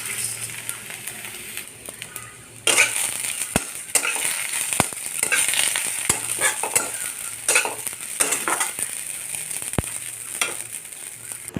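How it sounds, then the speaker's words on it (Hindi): Vermicelli roasting in hot oil in a kadai, with a steady close sizzle that swells loudly after a quieter start, punctuated by sharp ladle taps and scrapes against the metal. "प्रथम गोटे कड़ाई रे तेल देकी सिमेई भाजवा।"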